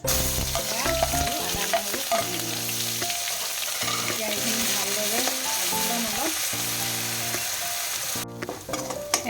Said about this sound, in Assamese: এয়া পিঁয়াজ আদা নহৰুখিনি ধুনীয়াকৈ ভজা হৈ গ'ল